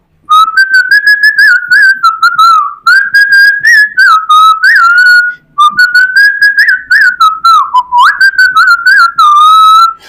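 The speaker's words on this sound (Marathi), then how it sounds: "मी शिट्टीतून गाणं म्हणून दाखवणार" A person whistles a melodic song in clear, sustained phrases, loud and close, with short pauses between lines and no talking.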